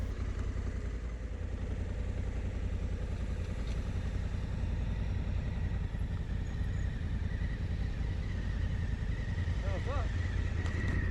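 A Honda Africa Twin DCT motorcycle engine turns over at low speed during slow manoeuvring on a bridle track, a steady close rumble with wind noise running the whole way and someone talking over it.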